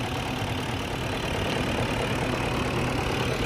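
A BMW E39 540i engine idles steadily with a continuous low rumble and a faint ticking running through it, no voices present.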